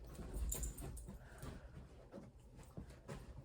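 A retired racing greyhound whimpers softly in short, faint whines and snuffles, close by and intermittent, with light rustling and movement around it.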